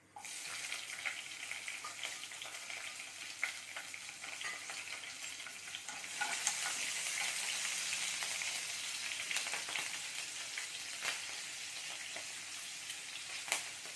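Cumin and chili crackle and sizzle in hot ghee, a steady hiss with scattered pops that swells louder midway, no one speaking.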